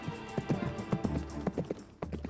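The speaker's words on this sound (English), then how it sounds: "At a steady canter, a horse can travel at around 15 miles per hour." A horse's hooves clip-clop in a steady cantering rhythm, a quick series of close, moderately loud beats with a brief pause near the end before the hoofbeats resume.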